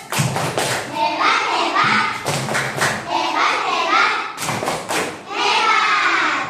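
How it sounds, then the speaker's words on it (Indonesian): Schoolchildren in a classroom do a rhythmic patterned clap cheer, sharp bursts of claps in groups separated by short pauses, with young voices chanting along between the beats. "Sekarang kita beri tepuk hebat."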